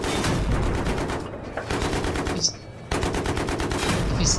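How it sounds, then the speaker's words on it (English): Tank cannon and gunfire in a Battlefield match on the Grand Bazaar map, with canister and tank shells, as a dense run of loud shots and blasts with brief gaps and a sharper report near the middle and end. "we had that objective armed and I just fired a shell at it"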